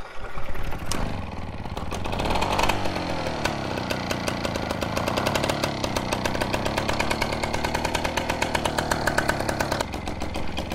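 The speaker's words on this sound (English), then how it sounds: "I'm gonna put on the exhaust and start the bike." A Piaggio Ciao 65cc moped engine fires up and runs steadily, a loud, close, rapid two-stroke buzz with a dense rhythmic pulse throughout, no talking.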